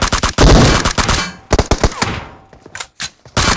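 Rapid close-range gunfire in a PUBG Mobile fight, dense automatic bursts cutting off into short sharp volleys with brief gaps, loud and up front with no talking.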